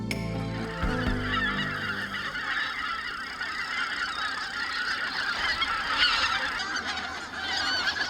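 A flock of wild geese honks continuously across harvested rice fields in winter, many overlapping calls close and loud with no talk.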